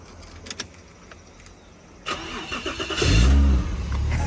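A turbocharged Toyota Chaser JZX100 with an upgraded radiator cranks briefly and fires up, then settles into a loud, close idle after a couple of quiet clicks and a mechanical thunk.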